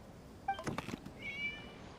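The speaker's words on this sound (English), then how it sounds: "It was just a cat." Short cat meows from a video game, a couple of clear calls with a softer drawn-out mew following, heard alone without talk.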